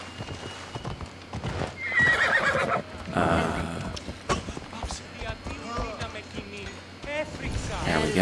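Horse in Assassin's Creed Odyssey whinnying loudly while hooves clip-clop at a steady trot, the game's galloping mount close and prominent, with a voice talking over parts of it.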